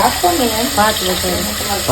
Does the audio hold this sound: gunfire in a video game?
no